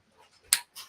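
A small dog gives a single sharp, loud bark, followed a moment later by a softer yip, with quiet whimpering noises before it, close by.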